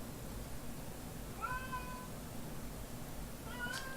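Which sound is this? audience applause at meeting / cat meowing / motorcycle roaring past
cat meowing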